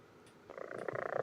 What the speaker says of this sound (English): That's a really loud purr.